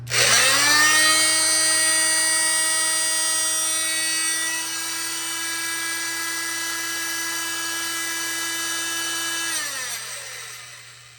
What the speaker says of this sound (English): now we can use this oscillating tool. I'll just turn it on